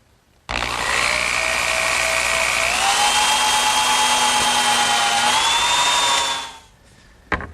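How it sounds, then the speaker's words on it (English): A power drill bores a pivot hole into a wooden board, a loud, sustained whine that starts abruptly, shifts pitch twice as the bit cuts deeper, then winds down and stops, with no voices. "the first thing that I'm going to do is drill a hole for the pivot point"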